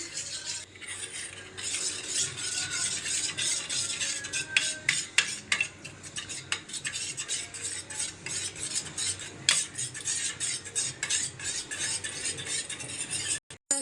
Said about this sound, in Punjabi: ਕਸਟਰਡ ਵਿੱਚ ਗਰਮ ਦੁੱਧ ਪਾਵਾਂਗੇ ਹੁਣ ਇਸ ਨੂੰ ਚੰਗੀ ਤਰ੍ਹਾਂ ਹਿਲਾਵਾਂਗੇ